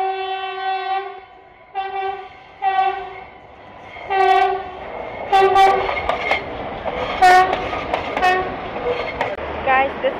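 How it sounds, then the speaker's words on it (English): Train horn blasting repeatedly in stacked harmonic tones as a train approaches along a street in San Jose, Costa Rica, the blasts growing louder and closer, with rumbling wheel noise and outdoor street bustle building beneath them. "Is that even a train coming?"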